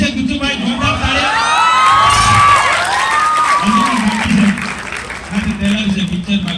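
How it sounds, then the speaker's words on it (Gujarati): A school audience at a Bhinar high school farewell program breaks into loud, sustained applause mixed with cheering, whoops and children's shouting, with voices calling out over the clapping throughout. "જોરદાર તાળીઓ"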